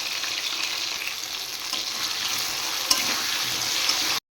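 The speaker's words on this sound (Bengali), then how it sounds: "এবার পরিমাণ মতো হলুদ নুন দিয়ে আলুগুলো ভালো করে ভেজে নেব।" Potato pieces fry in oil with turmeric and salt, giving a close, steady sizzle that runs without a break. One or two soft stirring clicks come near the end before it cuts off.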